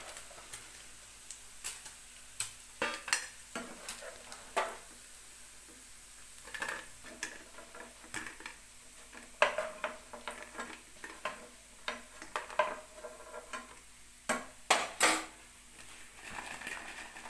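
Paneer fries in a pan with faint sizzling and a series of irregular clicks and taps of a utensil against the pan, quiet and close.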